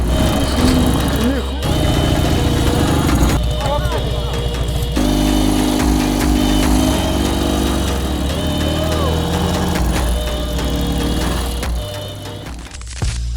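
A Dnipro MT-10-36 motorcycle engine runs loudly and steadily close by with a rough, throbbing idle, while someone talks over it.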